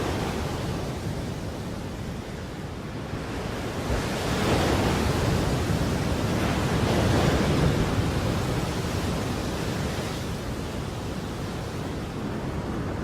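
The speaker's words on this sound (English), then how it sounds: "Christmas Island has caught the edge of a full-blown tropical cyclone." Steady roaring wind and surf on Christmas Island at the edge of a tropical cyclone, a continuous broadband rush that swells slightly in the middle, with no voices.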